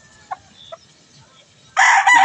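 A small rooster lets out a short, loud, close crow at the very end, after a quiet stretch with a couple of faint clicks.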